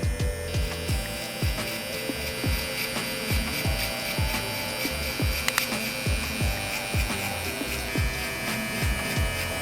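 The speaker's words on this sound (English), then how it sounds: "We're just pulling out the clipper a little bit" A Gamma Cyborg hair clipper runs steadily at close range while blending hair, its electric buzz continuous with a regular rhythmic pulsing as the blade moves through hair, with no talking.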